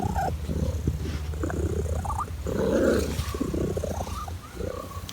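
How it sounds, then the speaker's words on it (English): A cat's chirpy purr, a steady close rumble running through the whole stretch with a louder swell midway and small chirping lifts above it. "The things that I'll remember about Xena, her special chirpy purr that I just adored."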